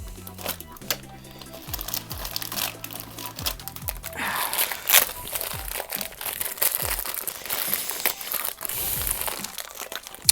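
Plastic packaging of a Beyblade Burst Storm Spriggan crinkling and crackling as it is pulled open, close and irregular, with rapid crunching bursts and a low tone fading early on.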